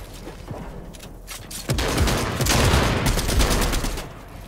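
Rapid bursts of gunfire in Fortnite Chapter 3, a loud fusillade of close shots that builds midway and continues densely to the end, with no talk over it.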